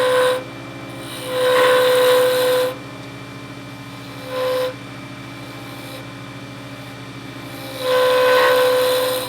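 A lathe turning a pen blank on a worn mandrel hums steadily, with repeated louder bursts of tool cutting and a tonal whine or squeal rising over the motor drone.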